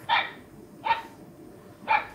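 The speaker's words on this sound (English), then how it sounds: "puppy bark dresser." Three short, high yappy barks spaced about a second apart, tinny and electronic, from an Enabot Rola Mini robot pet companion, with no voices around them.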